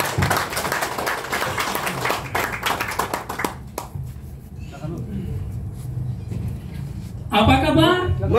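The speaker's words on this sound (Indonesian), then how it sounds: "semangat dan tepuk tangan untuk Coach Ulistova" Audience clapping at a business marketing-plan event, a dense burst of applause for about four seconds that thins out, followed by a voice speaking over a quieter background.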